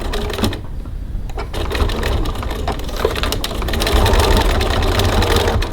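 A sewing machine runs steadily, stitching fabric along an edge at a long stitch length, its dense mechanical whir continuous and close, growing slightly louder toward the end.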